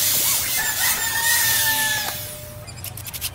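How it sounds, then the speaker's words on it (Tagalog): A rooster crows once at a moderate distance, a long rising and falling call over low background rumble, followed by faint mechanical tapping. "Tingog ng manok."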